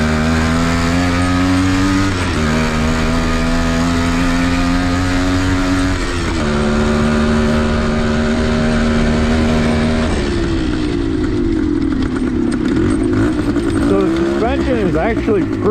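A TC185 enduro motorcycle engine runs continuously while being ridden, its steady drone shifting pitch between gears and rising as the bike climbs into rougher woodland terrain.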